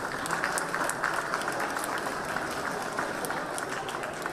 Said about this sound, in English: Let's clap for them once again.